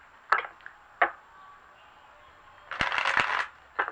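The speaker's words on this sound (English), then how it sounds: "That was a weird shuffle." A couple of sharp tarot card snaps followed by a brief riffling flurry and a final snap, close up, with quiet pauses between.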